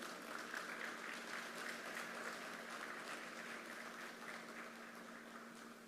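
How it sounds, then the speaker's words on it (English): A standing audience at the official opening ceremony of the Phoenix Park Industrial Estate applauds to welcome the Prime Minister: steady, even clapping heard faintly and at a distance over a low electrical hum, with no voices. "please stand as we welcome our Honorable Prime Minister with a round of applause"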